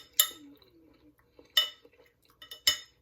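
Cutlery striking a plate while a fish dish in sauce is finished, three sharp, close metallic clinks spaced roughly a second apart, with faint quiet scraping in between and no talking.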